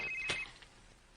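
A mobile phone ringing with an incoming call from an unknown number, a single brief ring burst standing out clearly near the start before fading into quiet room tone.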